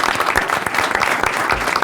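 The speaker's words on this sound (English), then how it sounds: "So I'd ask a round of applause for them as well." People at a Board of Education meeting and tenure reception clap together, a brief burst of close, lively applause with distinct individual claps standing out, and no talking.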